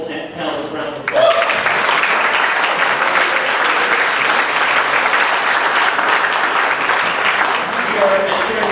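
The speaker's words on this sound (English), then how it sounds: "So please just give all of our wonderful panelists a round of applause." Audience at a community planning and rezoning panel in New York gives a loud round of applause, starting abruptly after a second of quiet and sustaining dense, even clapping to the end.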